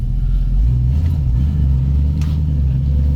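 1972 Ford Mustang Sprint being driven, its engine giving a loud, steady low rumble with a slight swell as it pulls along, with no talking.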